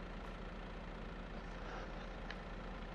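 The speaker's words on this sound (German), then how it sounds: "Ich muss schnell meinen Traktor abstellen, der ist zu laut." A tractor engine idles with a steady low rumble and broadband drone, heard at a distance and fairly faint, with no talking over it.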